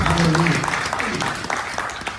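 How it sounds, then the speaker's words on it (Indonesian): Church congregation applauding during a sermon on restored marriage, a brief burst of clapping under and after a preacher's speaking voice, moderately loud and fading out. "Kasih tepuk tangan buat Tuhan"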